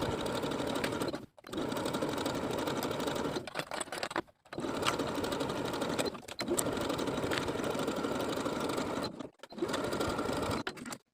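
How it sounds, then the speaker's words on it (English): A sewing machine stitches a 5/8 inch neckline seam on a sleeveless high-low hem dress, running in steady close bursts of rapid needle clatter separated by short pauses. "Then we'll sew the neckline with a 5/8 inch seam allowance all the way around."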